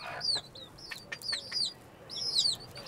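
Organic chickens in a coop in Benin give repeated high, sweeping chirps and clucks in short bursts, fairly faint over a steady low background hum.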